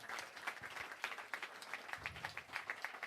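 An audience at a Guru Purnima gathering of a music school applauds teacher Mahesh Sawant, a brief burst of quick, moderately distant clapping from a modest crowd.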